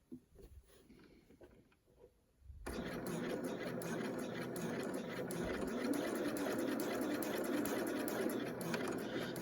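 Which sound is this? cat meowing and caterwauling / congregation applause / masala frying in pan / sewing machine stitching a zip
sewing machine stitching a zip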